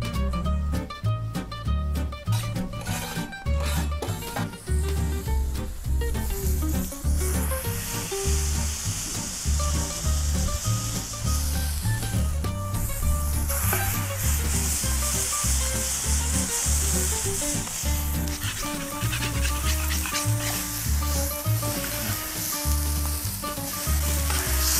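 Rapeseed oil and butter sizzle and fry steadily in a hot pan at about 200 degrees while burger patties are prepared, a loud continuous crackle with stirring and scraping throughout, no talk.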